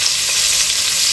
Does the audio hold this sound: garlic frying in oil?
yes